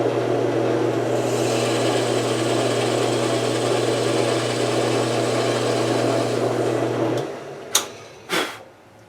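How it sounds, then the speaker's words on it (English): A power drill bores a hole in a Stratocaster guitar's wood, whirring steadily for about seven seconds at close range, then stops, followed by two brief sharp clicks. "So I'll drill this one first."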